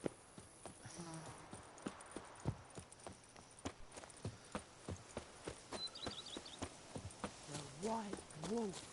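Horse hooves in The Witcher 3 clip-clop in a steady, regular rhythm close by, with a few snorting or whinnying sounds near the end and spoken dialogue over part of it.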